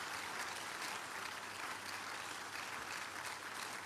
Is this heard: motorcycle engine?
no